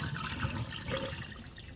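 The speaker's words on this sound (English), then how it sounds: "now I'm gonna just pour the juice out" Juice poured out of a pan of raw chicken in a home kitchen, a short watery splashing stream that runs steadily for under two seconds with no talk over it.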